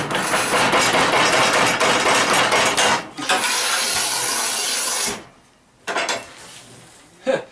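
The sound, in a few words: manual tile cutter breaking a glazed tile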